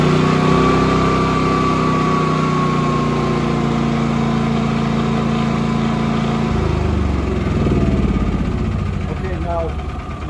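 A Predator 9500 watt inverter generator runs on natural gas, its engine a loud, steady mid-pitched drone with a faint whine, settling and roughening slightly partway through; no one speaks over it.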